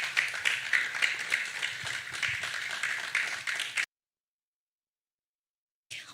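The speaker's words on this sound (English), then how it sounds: "Please keep clapping till she comes off stage." Audience applause at a youth entrepreneurship policy dialogue as a panelist walks on stage, steady dense clapping for about four seconds, then silence, with a brief burst of clapping returning at the very end.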